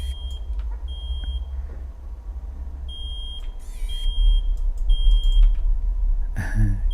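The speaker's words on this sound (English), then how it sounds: "What's that beeping noise?" Repeated short electronic beeps sound in pairs over a low, rumbling ambient hum in a horror video game, with a couple of brief rustling noises and no speech.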